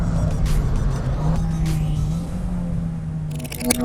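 A Mitsubishi Lancer EVO or Subaru Impreza STI Spec C rally car at full throttle through a double right-hander, engine droning loud and close with rising pitch, a shift or two, and sharp bursts near the end.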